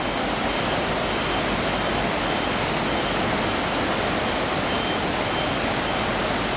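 Floodwater rushes across the flooded Gonnoi–Itea plain near a dangerous bridge at Parapotamos, a loud, steady, broadband roar that continues without a break and with no voices.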